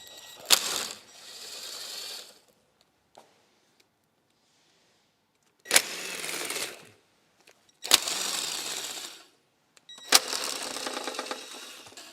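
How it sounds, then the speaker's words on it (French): An impact wrench removes engine oil pan bolts on a Jeep Cherokee during an engine leak repair, firing in four separate loud, close rattling bursts of about two seconds each, with quiet gaps and small clicks between them. "on s'aide de la déboulonneuse et on retire les 58 vis"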